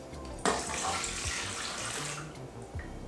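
Liquid cinnamon roll mixture pours into an electric mixer bowl, a steady splashing, trickling stream that starts abruptly and runs for a few seconds at moderate loudness.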